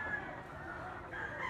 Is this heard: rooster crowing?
yes